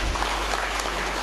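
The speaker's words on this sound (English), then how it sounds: "Give a big clap for meditation." An audience at a meditation gathering bursts into steady, dense clapping that fills the short moment with a close, even wash of hands slapping together.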